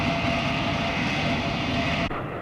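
Hawker Siddeley HS-125 British business jet, a steady loud roar of engine noise that holds evenly for about two seconds before cutting off abruptly.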